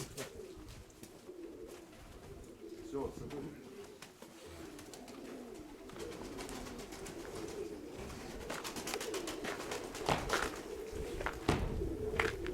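Pigeons coo repeatedly in a low, steady murmur throughout, with scattered wing flutters and knocks, and someone speaks briefly near the start.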